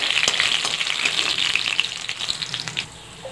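Pumpkin seeds frying in hot oil in a pan, a dense continuous sizzle with scattered crackles and light stirring scrapes, close and fairly loud, easing off near the end with no one talking.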